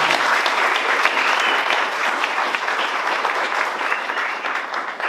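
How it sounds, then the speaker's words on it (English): A large evening audience applauds steadily in a dense, sustained wash of clapping that stays loud and even for about five seconds, with no talk over it. "a big round of applause"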